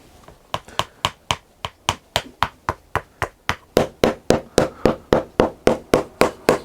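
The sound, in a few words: hammering a leather top lift onto a shoe heel with nails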